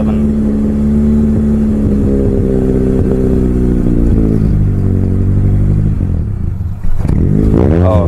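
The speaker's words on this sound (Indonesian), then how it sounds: "Ini saya injek pedal gas, teman-teman." A Mitsubishi Lancer CK4 engine with a faulty air flow sensor and the check-engine light on idles roughly, then revs up loudly and unevenly as the gas pedal is pressed, surging again near the end.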